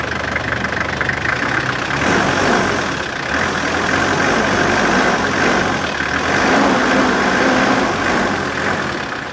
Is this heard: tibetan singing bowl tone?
no